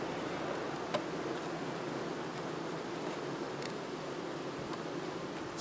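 Honeybees buzz steadily around frames of black foundation during a hive split, a dense continuous hum with faint broadband rustle and no pauses.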